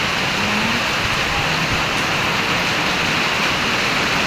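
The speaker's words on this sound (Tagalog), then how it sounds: "lakas ng ulan" Heavy rain pours down behind a house where the yard is flooding, a dense, constant roar of water that stays loud and unbroken throughout.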